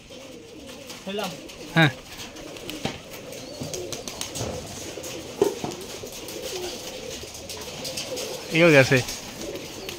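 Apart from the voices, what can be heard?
Rajshahi Giribaz pigeons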